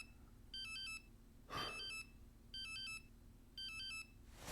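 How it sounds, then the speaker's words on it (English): A phone ringtone in an anime episode plays as a repeating electronic melody, several short bursts separated by brief gaps, with a whoosh and other noise in the middle and again at the end. "His phone, that's definitely him."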